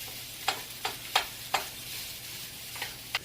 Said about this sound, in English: Now you don't have to get your bacon fried real super crispy, just until it's nice and golden and fried just right.